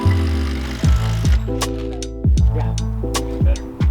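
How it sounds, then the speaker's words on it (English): Power lag screws driven through ledger boards into wall studs with an impact driver: repeated loud, rattling hammer bursts with brief pauses between them, close up and alone with no talking. "then use Spat's power lags to attach the boards"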